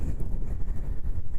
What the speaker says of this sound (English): It feels like I'm standing on top of a mountain with the amount of wind that's coming off the harbor down here.